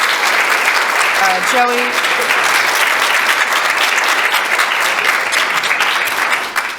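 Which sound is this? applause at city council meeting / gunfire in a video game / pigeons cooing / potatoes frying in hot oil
applause at city council meeting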